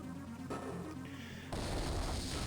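A cannon fires in the game Advance Wars 2, a sudden booming burst that follows a shorter layered shot and then rings out loudly, with no talk.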